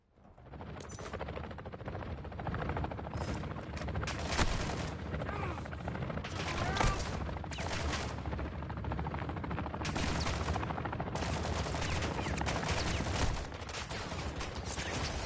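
Sustained gunfire in a Call of Duty DMZ firefight, rapid automatic bursts and overlapping shots with some heavier booms, loud and continuous across the whole stretch.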